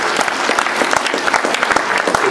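Steady applause from a festival audience for a band at a Mărțișor celebration in Coșnița, Dubăsari, dense clapping continuing evenly throughout without pause.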